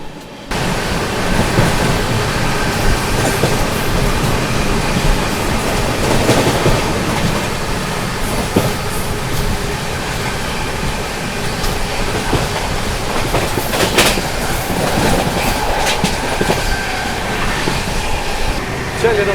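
Sachkhand Express train passing on the rails, a loud steady roar of wheels with rhythmic clickety-clack from the wagons going by close, continuing throughout with a faint voice under it.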